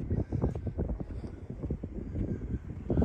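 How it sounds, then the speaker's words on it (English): Strong wind buffeting the microphone at a campground in Theodore Roosevelt National Park, in heavy, uneven low rumbling gusts, continuous throughout with no other clear sounds. "It's real windy"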